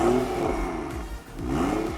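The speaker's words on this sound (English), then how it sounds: "I'll just give it a few revs to see how it sounds" A BMW F30 with the N55 engine and a catless downpipe revs twice, rising and falling, as a moderate exhaust drone with no talking.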